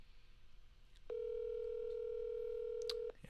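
A telephone sounds while a call is being placed: a single steady electronic tone holds for about two seconds over quiet room noise, and a brief high beep sounds near its end.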